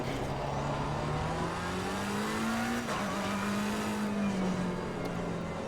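Race car engine in a sim racing game, a steady sustained drone whose pitch climbs gradually, dips briefly as the brakes go on, then rises again under acceleration, loud and continuous throughout.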